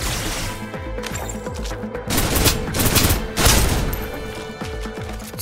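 Repeated gunshots and impacts from the game Snowbreak, a steady run of punchy shots with heavier crashing bursts in the middle, over a busy game soundtrack and no voices.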